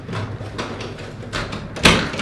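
A door banging and rattling indoors, several scuffs and knocks capped by one loud, sharp slam near the end, close by with no speech.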